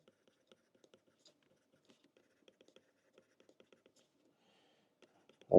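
Pen or marker writing out math cases on a surface: faint, sparse scratchy taps and short strokes, quiet and close, ending with a sudden louder bump.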